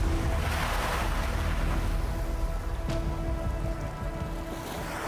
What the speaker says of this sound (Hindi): 4 से 5 फीट तक ये लहरें ऊपर नीचे हो रही हैं।